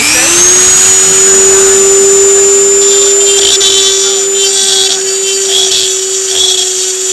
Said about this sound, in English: And then I can actually use it and grind it.